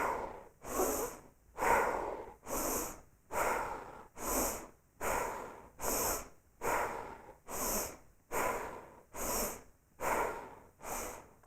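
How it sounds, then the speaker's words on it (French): Bhastrika yoga breathing: about eleven forceful, evenly spaced breath pulses, each a loud, close, airy rush through the nose. They come in a steady rhythm of roughly one per second, with no other sound. "10 pulsations de Bhastrika à nouveau"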